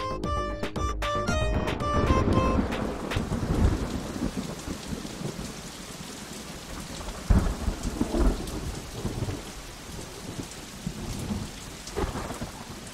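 Heavy rain pours steadily through a thunderstorm, with rolling thunder rumbling and cracking several times over the downpour; no one speaks.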